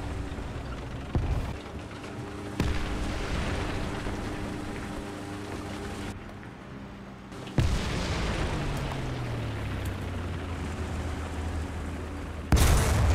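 Tank cannon firing in War Thunder while driving a Soviet-used Sherman, several heavy booming shots spaced a few seconds apart over a constant rumbling engine drone, one followed by a falling mechanical whine.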